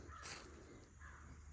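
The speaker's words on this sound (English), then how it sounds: "my location's been given away by a crow" A crow caws at Pea Ridge National Military Park, a single harsh call close by, followed by a second weaker caw against quiet outdoor background.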